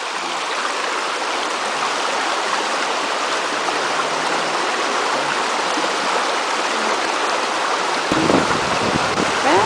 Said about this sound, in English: And here comes the wind.